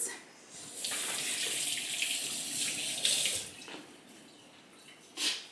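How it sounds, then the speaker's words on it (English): Hands washed under a running kitchen tap while cooking, a steady close hiss of flowing water for several seconds, then it cuts off with a short final splash, no talking. "so I'm gonna wash my hands."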